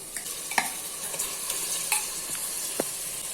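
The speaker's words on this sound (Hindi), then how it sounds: "अभी इसमें चिकन ऐड कर लेना है" Chicken goes into tomato masala frying on a medium flame and is stirred, giving a soft continuous sizzle broken by several sharp spoon scrapes and clinks, close up with no voices.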